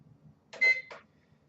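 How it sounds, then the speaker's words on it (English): A kitchen timer gives a short electronic beep with brief clicking while it is set, heard once against a quiet room. "And we set our timer"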